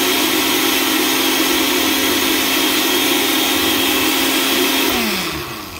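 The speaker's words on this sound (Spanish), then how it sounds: "Les vamos a agregar también un pedacito de ajo, digo un ajo completo, y un pedazo de cebolla, y ya los vamos a licuar. Aquí ya lo estamos licuando." Kitchen blender blending garlic and onion for green salsa, a loud, close, steady high whir held without a break before winding down at the end.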